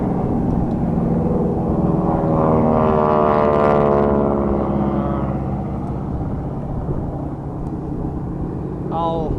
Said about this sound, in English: Here's the other torpedo bomber.